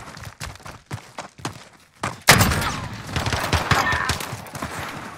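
Shotgun blasts in the video game Call of Duty Cold War during a 2v2 gunfight match: several sharp separate thumps, then a loud burst of rapid fire that keeps rumbling on, close and dense.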